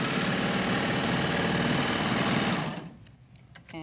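A serger sewing machine stitching piping into fabric runs fast and loud in a dense, steady mechanical whirr for almost three seconds, then stops, leaving faint handling clicks.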